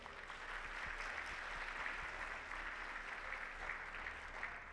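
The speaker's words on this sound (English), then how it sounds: "So applause for Jill." Steady applause from an audience at a dental hygienist awards ceremony, even and continuous, heard at a distance without any voices.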